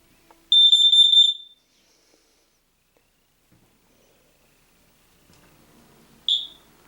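A smoke and carbon monoxide alarm under test gives one shrill electronic beep lasting about a second, then a shorter chirp a few seconds later, in a quiet room.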